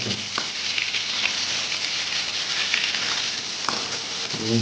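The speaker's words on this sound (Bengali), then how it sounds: "বেগুনটা অল্প করে একটু ভেজে নেবো" Eggplant (brinjal) pieces fry in a pan of hot oil, giving a steady close sizzle with a few soft clinks and stirring knocks.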